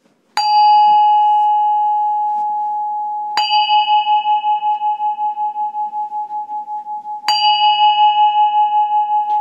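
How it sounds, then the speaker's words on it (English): A singing bowl is struck three times, each strike ringing out in a clear sustained tone with a slow pulsing shimmer as it fades. "I'm going to go ahead and ring my bowl"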